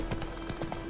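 Roach, Geralt's horse in The Witcher 3: Blood and Wine, galloping with rapid, evenly spaced hoof clip-clops over a steady background hum, close and moderately loud throughout the brief moment.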